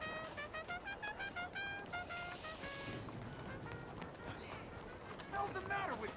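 Rhythmic horse hoofbeats clip-clop steadily in Red Dead Redemption 2 under the game soundtrack, with a brief whinny-like tone and someone talking over it.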